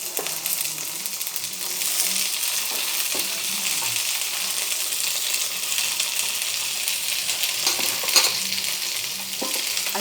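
Tomato and potato pieces frying in a pan give a continuous crackling sizzle, with occasional stirring clinks and one sharper knock near the end.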